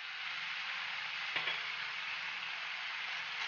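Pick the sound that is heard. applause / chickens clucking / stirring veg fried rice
stirring veg fried rice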